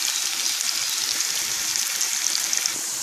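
Chopped onion browns in a hot pan, giving off a dense, even sizzle that holds at a loud, close level with no talking.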